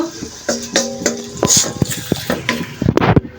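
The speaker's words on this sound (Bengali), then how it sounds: "মশলাটা ভালো করে কষিয়ে নিচ্ছি" A garlic and ginger spice paste is stirred and fried in a pan for a pumpkin-bori vegetable curry, with scraping spoon strokes, clinks against the pan and a light sizzle underneath.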